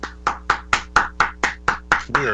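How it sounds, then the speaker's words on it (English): Rhythmic hand clapping for a guest on a radio show, about ten evenly spaced claps from one or a few people, close and fairly loud. "Round of applause for Michael Exler."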